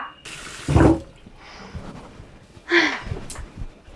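Running tap water washes broccoli in a household sink, with splashing surges that swell and fade as the florets pass under the stream, close by and moderately loud, with no talking.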